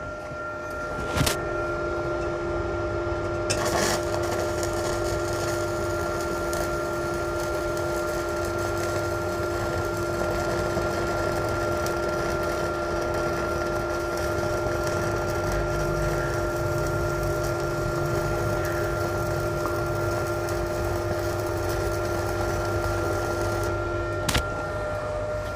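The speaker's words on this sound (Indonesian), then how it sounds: "Ini adalah pengelasan dengan MMA, kawat las 2 mili, 40 ampere, untuk ketebalan holonya di 2 mili" MMA stick welding on 2 mm hollow steel section with a 2 mm rod at 40 amps; a steady crackling hiss over an electrical hum runs without a break for about 25 seconds, with no talking.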